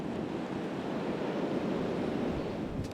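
Steady broadband wind roar by the Great Ouse river at St Ives, a dense, even rush of air close to the microphone with no voices.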